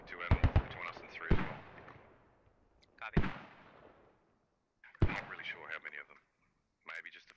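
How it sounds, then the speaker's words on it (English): Mortar rounds landing in the tactical shooter game Squad, heard as several sharp booming impacts with long decaying rumbles at irregular intervals, moderately distant, mixed with talk. "I hear the mortars landing over here, but not entirely sure."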